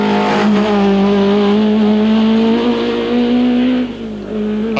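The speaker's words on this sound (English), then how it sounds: "Clutch problems are now quite audible." A 1982 rally car with a clutch problem at the Circuit of Ireland Rally holds a loud, steady, droning engine note nearby, which dips briefly toward the end before picking up again.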